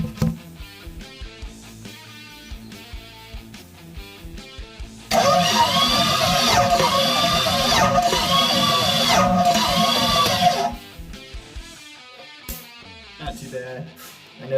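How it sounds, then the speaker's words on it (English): Chevrolet 350 small-block V8 in a 3/4-ton truck cranking over during a compression check, a loud rhythmic starter churn lasting about five seconds, preceded and followed by quieter mechanical clicking and ticking. "gonna check the compression on my 350"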